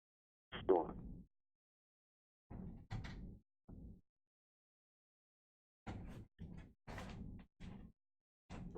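Two doors open and close, heard as a sparse series of clunks and bumps in separate bursts with silence between them, fairly close and moderately loud.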